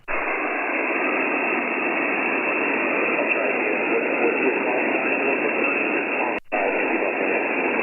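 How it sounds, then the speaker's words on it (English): Steady broadband ham radio static hiss filling the band on an Icom HF rig, a constant noise floor left after a signal fades, with one brief dropout near the end and no voices. "you just dove into my noise floor, Andrew."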